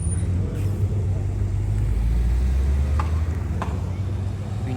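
Corvette rolling into an American car meet, a low engine rumble close by, steady throughout with faint background chatter and clicks.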